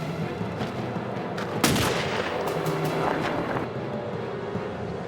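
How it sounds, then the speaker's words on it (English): A single gunshot rings out in a dramatic scene from The X-Files TV series, one sharp bang partway through a dense, rumbling soundtrack bed that continues around it. "Shoot me, Agent Doggett, if you think it'll make a difference this time."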